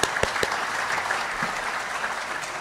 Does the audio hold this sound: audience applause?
yes